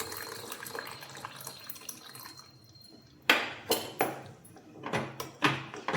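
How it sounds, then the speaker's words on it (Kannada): Water poured into a pot of boiling ragi soup, a soft trickle followed by several distinct splashing, dripping bursts close by. "ಇದಕ್ಕೆ ಇನ್ನು ಸ್ವಲ್ಪ ನೀರು ಹಾಕ್ತಾಯಿದ್ದೀನಿ."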